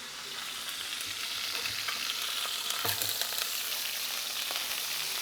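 Salted blue grenadier fillet fries skin-side down in a pan, giving a soft, even sizzle that holds steady throughout with a few faint crackles and no voices.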